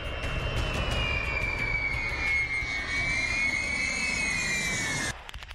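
A B-52 bomber jet passes with a loud, sustained engine roar and a high whine that dips and rises, filling the whole stretch before cutting off abruptly near the end.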